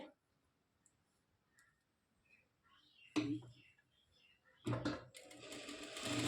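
A sewing machine stitching a blouse runs in two short loud bursts of rapid stitching, with quiet handling and soft speech in the pauses between.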